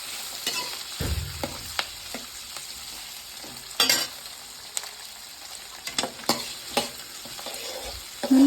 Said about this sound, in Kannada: ಕ್ಯಾಪ್ಸಿಕಮ್ ಹಾಕಿದ್ಮೇಲೆ ಚೆನ್ನಾಗಿ ಫ್ರೈ ಮಾಡ್ಕೋಬೇಕು